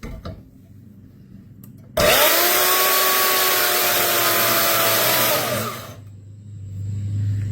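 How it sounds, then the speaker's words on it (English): A Bauer 10-amp deep-cut variable-speed band saw running at maximum speed cuts a straight line down square metal tubing, starting abruptly into a loud, steady whining grind with rising tones for several seconds before stopping and winding down. "we're just going to be cutting a straight line down this square tubing piece"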